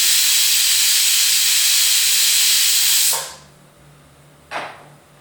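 A pressure cooker cooking sarson ka saag vents steam in a loud continuous hiss that cuts off abruptly, then a single short hissing burst follows over quiet kitchen background.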